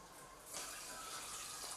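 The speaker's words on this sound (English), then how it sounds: "Then I'll add 1 cup of the lukewarm water here." A cup of lukewarm water for bread dough is poured into a bowl, a soft, quiet splash and gush starting about halfway in and lasting a second or so, heard alone.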